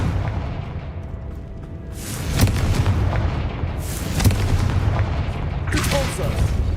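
Confringo spell blasts in Hogwarts Legacy land as three heavy booming explosions spaced a couple of seconds apart, each a loud, close burst over a low rumbling game background.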